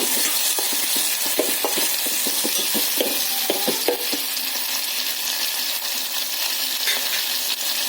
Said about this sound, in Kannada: ಎಣ್ಣೆ ನಂತರ ಟೊಮೆಟೊ ಹಾಕೊಳ್ಳೋಣ ಅದನ್ನು ಫ್ರೈ ಮಾಡ್ಕೊಳ್ಳೋಣ